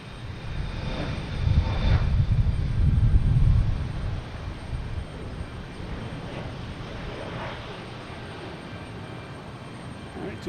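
A Delta airliner at Boston Logan Airport, a low broad engine roar that swells loudest near the start then settles into a steady distant rumble with no talk.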